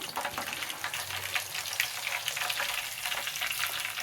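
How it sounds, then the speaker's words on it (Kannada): Peeled field beans (avarekalu) frying in hot oil, a steady crackling sizzle with dense bursts of popping bubbles, moderately close and fairly quiet, with no speech. "ಇದು ಚೆನ್ನಾಗಿ ಎಣ್ಣೆ ಕಾದಾಗ ಅವರೆಕಾಳು ಹಿತ್ಕಿರೋದನ್ನ ಸ್ವಲ್ಪನೇ ಹಾಕಿ ಎಣ್ಣೆಯಲ್ಲಿ ಕರ್ಕೋಬೇಕು."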